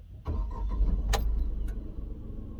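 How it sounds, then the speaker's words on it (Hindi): A Tata Nexon XMS petrol engine idles smoothly just after starting, a low steady rumble heard from inside the car, quiet and even, with a couple of faint clicks over it. "इंजन नॉइज सुनो आप।"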